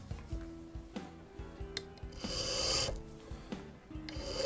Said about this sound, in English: So you turn the pin vise and very carefully file it down.